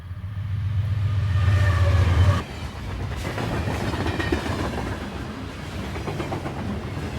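A westbound CSX freight train, Q375, on the Magnolia Cutoff passes close by, with a loud locomotive engine drone that gives way to a steady rumble and clatter of rolling freight cars.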